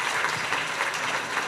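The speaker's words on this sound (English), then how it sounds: "Let's give him a round of applause." Steady audience applause greets a seminar speaker, a dense, continuous clapping from the crowd at a moderately loud level.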